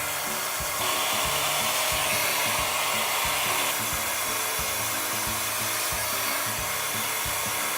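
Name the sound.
hair dryer blowing out hair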